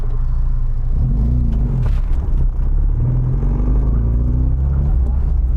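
A 1987 Austin Mini 1000 engine runs with a loud, steady low rumble from close by, its pitch rising and falling slightly as it revs, while a voice speaks faintly over it.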